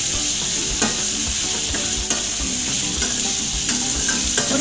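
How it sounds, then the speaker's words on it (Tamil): Potatoes fry in hot oil in a pan for a Tamil-style potato gravy, a steady close sizzle with occasional stirring clinks and scrapes, no voices. "ஒரு 2 நிமிஷம் இந்த மாதிரி நம்ம வதக்கிக்கலாம்."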